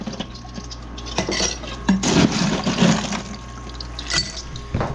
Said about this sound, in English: So it's making ice right now, and I'll go ahead and get myself a scoop of ice.